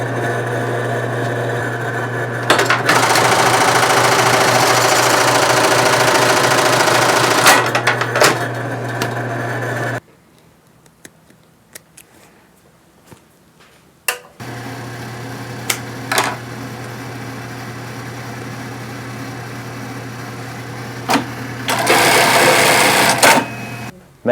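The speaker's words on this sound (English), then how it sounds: "it's obviously a single needle all the way around, so we don't disrupt the stitch" A single-needle sewing machine stitches a patch onto custom jeans in loud, steady runs, stopping for a quiet pause midway before starting again, with short bursts of faster stitching.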